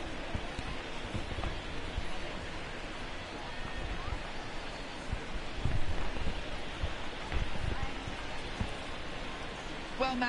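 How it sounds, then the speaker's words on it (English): Steady hiss of rain falling over a ballpark in a baseball video game featuring the Astros, a dense continuous patter with a few louder bursts, no voices on top. "the rain that we're experiencing now is not expected to go away, and it's likely going to get worse"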